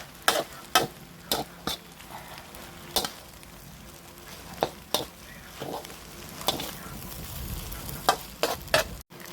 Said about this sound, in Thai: ครับเอาผัดเอาผักลงแล้วนะ ทำมาคลุกเคล้าให้เข้ากัน